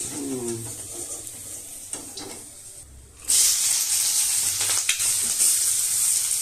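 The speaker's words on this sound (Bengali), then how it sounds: "এর মধ্যে পেঁয়াজ ভাজবো, তাই তো?" Sliced onions are dropped into hot oil in a pan for a Bengali muri ghonto, a loud steady sizzle bursting in partway through after quieter kitchen clatter and lasting to the end.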